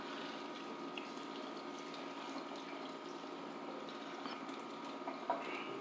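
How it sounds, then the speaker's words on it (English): Faint, steady trickle and patter of water being drained from a pot, a soft continuous stream with a few small clicks near the end. "you just drain out the water"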